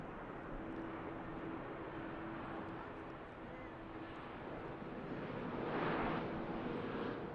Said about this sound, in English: Textbook touchdown from the Iceland Air.